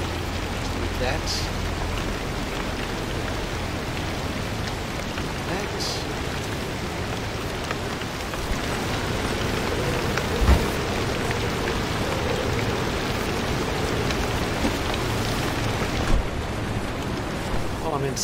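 Steady downpour hisses in the video game Pacific Drive, with a couple of soft low thuds that could be distant thunder rumbling under the continuous rain.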